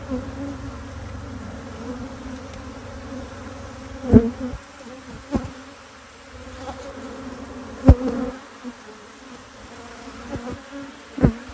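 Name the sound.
angry bees buzzing inside a house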